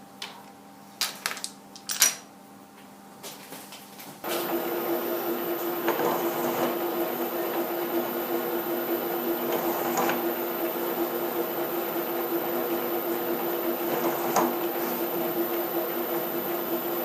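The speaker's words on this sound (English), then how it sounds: "I'll just run a countersink through these rear holes first." Countersink cutting the rear holes of a lathe tailstock part: a few sharp clicks and handling knocks, then a steady whirring drone with periodic louder bursts as the tool bites, all heard close.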